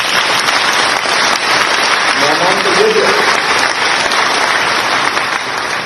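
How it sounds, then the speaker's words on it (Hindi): An audience at a sports award ceremony applauds continuously with a dense, steady wash of clapping, while a voice speaks briefly over it. "जरा ताली बजा के जोरदार स्वागत करें"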